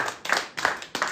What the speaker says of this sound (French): On applaudit, écoute.